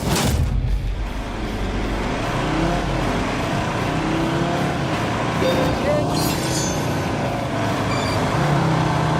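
Cars with big engines, one a 3.2-litre five-cylinder, launch at the start of a race in the Grand Tour driving game, revving hard in a loud, continuous roar with someone talking over it.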